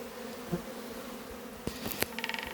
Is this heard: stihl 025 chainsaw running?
no